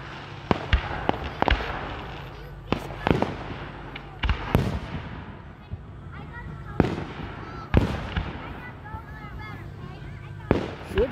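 Fourth of July fireworks bursting outdoors, a series of sharp booms and cracking pops at irregular intervals, some with crackling tails, while people chat nearby between explosions.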